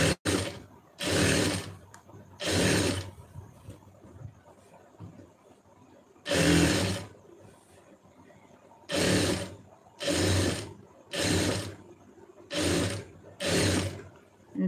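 Tailoring sewing machine stitching fabric in repeated short bursts, about nine runs of a second or so each separated by brief pauses, close and fairly loud with no talking.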